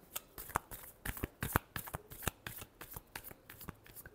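Tarot cards are shuffled by hand in a rapid run of crisp riffling flicks and taps, close and fairly quiet, with no talk.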